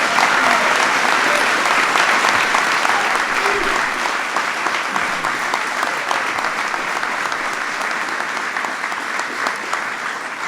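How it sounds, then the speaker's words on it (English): A large audience at the White House applauds the 2016 NCAA men's basketball champion Villanova Wildcats, steady dense clapping sustained loud and unbroken throughout. "Give him a big round of applause."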